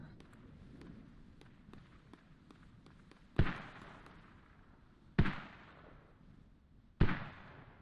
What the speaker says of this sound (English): And the mortars landing on Hussar Sutter rods nearly.